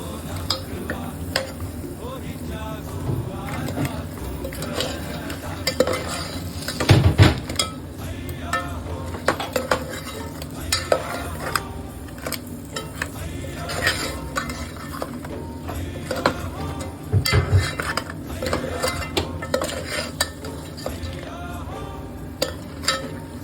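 Crab pieces are stirred into masala in a pan, with a steady low sizzle under repeated scraping and occasional clinks of the spoon against the metal pan.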